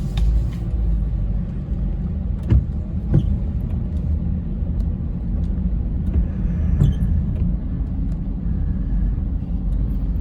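A car drives along Mamangina Drive in heavy rain, a loud continuous low engine and road rumble from inside the cabin, with scattered faint taps and clicks on top, no talking.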